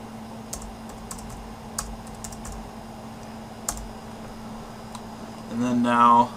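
Keystrokes on a computer keyboard tapping in irregular, sparse clicks under a steady background hum, ending with a brief louder burst of sound.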